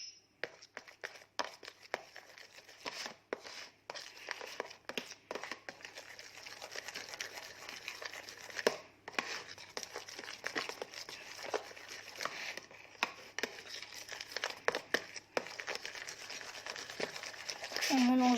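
Salt slime made without glue or borax being stirred and squished, a steady wet crackling and patter of sticky mixing that runs close and continuous throughout, with a voice talking over it at times.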